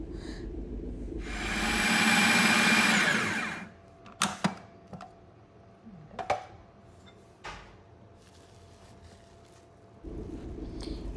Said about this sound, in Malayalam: എന്നിട്ട് വീണ്ടും അരച്ചെടുക്കുക.